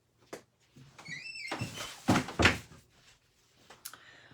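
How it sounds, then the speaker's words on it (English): Several wooden knocks and thunks close by as a door is swung and pushed shut indoors, with quiet shuffling between the impacts. "I need to shut my door"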